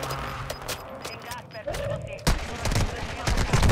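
Gunfire crackles in the video game Warzone 2 as several sharp shots and short bursts ring out at uneven intervals, with a player talking over the action.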